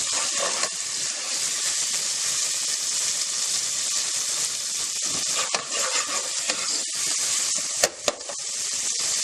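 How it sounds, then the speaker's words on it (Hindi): Garlic sautés in oil in a pan while a little water is added, giving a loud, continuous hissing sizzle with stirring scrapes and a couple of sharp clicks near the end, no voices. "इसको अच्छी तरह भूनना है ताकि लहसुन की स्मेल निकल जाए।"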